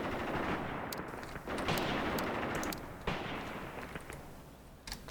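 Infantry gunfire in the Graviteam Tactics war game: sharp cracks and bursts of rifle and machine-gun fire crackle over a dense, rumbling battlefield din, with several distinct shots standing out across the whole stretch.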